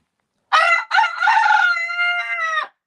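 A rooster crows in the morning, one loud nearby cock-a-doodle-doo with a short break after the opening note and a long held tone that trails off, heard on its own.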